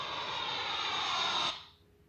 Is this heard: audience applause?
no